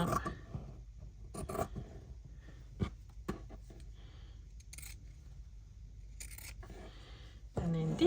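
Scissors snip through fabric for a stitched box pouch, a few sharp cuts spaced across the quiet with faint rustling and handling between them.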